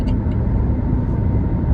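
A car driven along a road in Chennai, heard from inside as a loud, steady low engine and road rumble with no talking.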